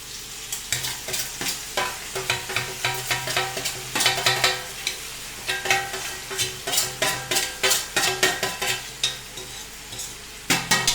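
Sauce with onion and spices for Goan pork chops sizzles steadily in a frying pan, with repeated rhythmic scraping and stirring strokes close by and no talking.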